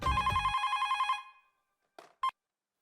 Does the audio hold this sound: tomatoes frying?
no